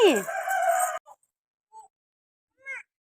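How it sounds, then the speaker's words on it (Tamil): A rooster crows loudly for about a second during a chicken fight, followed by a few short, scattered clucks from chickens in otherwise quiet surroundings. "சண்டையா நடக்கு கோழிக்கு."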